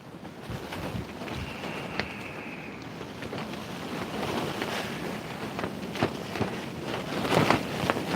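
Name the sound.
wind blowing into microphone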